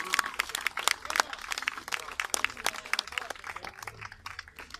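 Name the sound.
audience applause at halberd duel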